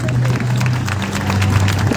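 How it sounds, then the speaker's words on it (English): Audience applause at a school graduation ceremony: a steady, dense wash of many hands clapping at once, sustained evenly for the whole stretch over a low hum from the hall. "Let's give her a round of applause"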